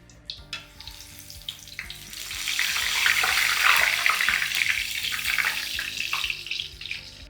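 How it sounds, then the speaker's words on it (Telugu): Beaten rice (poha) frying in hot oil, starting with a few sharp clicks before a dense, bubbling sizzle swells up and carries on steadily close by, with no voices. "ఇలా అటుకులు ఫ్రై చేసిన తర్వాత ఒక బౌల్ తీసుకొని ఇందులో వేసుకోవడం"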